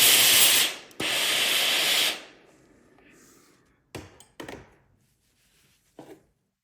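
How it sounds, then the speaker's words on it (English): A steam iron presses the seam of a sewn dress neckline flat, giving two loud bursts of steam hiss in quick succession, then quiet with a few short scuffs and clunks as the iron moves and is set down. "Now we're going to press this neckline flat, rolling the seam toward the inside on the lining side, all the way around the neckline."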